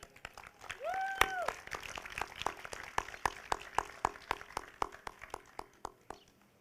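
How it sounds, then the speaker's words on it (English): Sparse applause at a high school senior awards night, distinct individual claps in a loose rhythm, fairly faint and thinning out, with a brief voice early on. "Round of applause for our athletes of the year."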